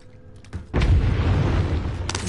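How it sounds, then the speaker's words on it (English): An explosion in a shooter video game, a single loud, close boom that rumbles on for more than a second and then fades. Game sounds come just before it, and there is no talk. "Bruh, explosion."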